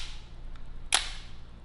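Analog film camera shutter fires once at its slowest 1-second setting, a single sharp, quiet click standing out against a faint hiss, preceded by a tiny softer tick.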